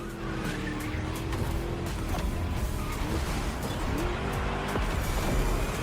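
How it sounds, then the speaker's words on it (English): A V8 car engine in a racing video game roars and revs under squealing tires, the throaty rumble rising and falling as the vehicle skids around a track. "Just listen to that V8 like a chunky, down-tuned guitar riff"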